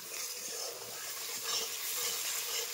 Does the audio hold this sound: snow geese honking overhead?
no